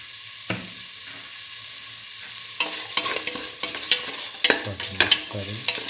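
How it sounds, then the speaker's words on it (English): Spices and turmeric powder stirred in a hot pan while cooking split mung beans vermicelli: a quiet start, then steady scraping and stirring strokes over a soft continuous sizzle, close by with no talking. "Saute and mix thoroughly."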